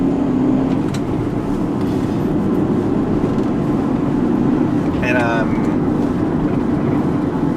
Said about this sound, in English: You can hear all the noises in my car.